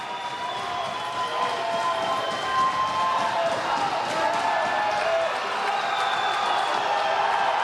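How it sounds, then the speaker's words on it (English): A crowd cheering on a weightlifter during a strongman log press event at the Shaw Classic, a steady roar of shouts and encouragement throughout, with a commentator's voice running underneath. "Really getting the support from the crowd here."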